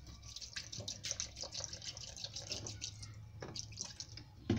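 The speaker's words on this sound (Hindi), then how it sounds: "बाकी का इस पर डालूंगी मैं पानी।" Water poured onto ground guava in a kitchen while making guava juice, a steady trickle with dripping splashes throughout, fairly close and alone.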